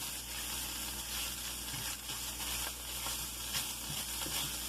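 Food sizzles steadily in a hot pan with no grease, a constant crackling hiss with no voices.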